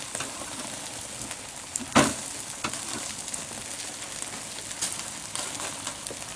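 Food sizzles and crackles over open flames on a grill fired with wood instead of charcoal, a steady close hiss with scattered pops and one sharper crack, and no talking.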